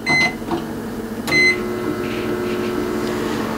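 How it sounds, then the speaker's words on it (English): A microwave oven running to heat water, a steady close hum after a couple of short beeps and clicks at the start, continuing evenly with no talking. "So now we're gonna go to the microwave and use the microwave to heat the water up."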